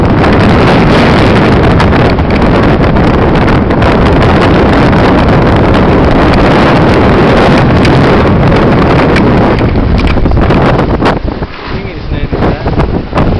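Loud, constant wind of about 20 knots buffets the microphone on a sailboat moving at 7.5 knots, water rushing and splashing past the hull, waves surging throughout and easing slightly near the end.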